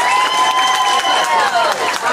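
An audience claps and cheers for contestant number 3 at a joke-telling contest. The applause is loud and dense and mixes with crowd noise and some voices.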